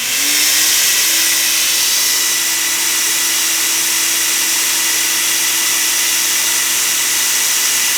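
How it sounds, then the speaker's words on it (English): A vacuum cleaner, used as the load on a protective relay demo unit, whirs loudly and steadily after a quick start-up, its motor holding one constant high-pitched drone with no talking. "I'm going to turn on the vacuum cleaner"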